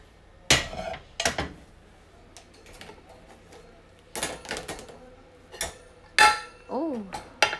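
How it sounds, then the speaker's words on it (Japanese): Dishes and cutlery are cleared away in a home kitchen at night, with repeated sharp clinks and clatters of plates and utensils in irregular bursts, close and fairly loud, with a brief voice in the background. "食器を片付けてます。"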